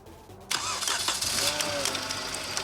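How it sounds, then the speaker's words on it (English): A Kia Optima engine, set up for an engine transplant, cranks over: after a quiet half second the starter catches and a loud, rough, continuous mechanical churn runs to the end, close to the microphone. "to crank her over and see what she does"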